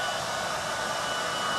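Hair dryer running steadily at close range, drying fresh paint on a tabletop during furniture painting; a continuous even whoosh with no pauses or talk.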